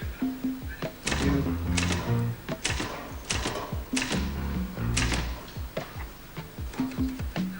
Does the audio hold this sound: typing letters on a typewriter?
yes